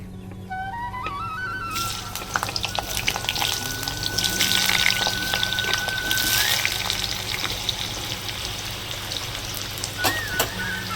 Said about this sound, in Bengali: আমার তেলটা গরম হয়ে গেছে আর আমি তার মধ্যে দেখো আলুগুলো ভেজে নেবো